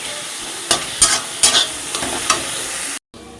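Cooked bottle gourd with coriander leaves is stirred in a hot wok over a soft sizzle. About five scraping strokes land at an uneven pace before the sound cuts out abruptly.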